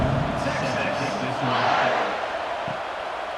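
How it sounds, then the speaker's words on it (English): A college football stadium crowd at a San Jose State versus Texas game buzzes after a touchdown, a broad, continuous roar of many voices with a commentator talking over it. "this crowd is buzzing after that last score"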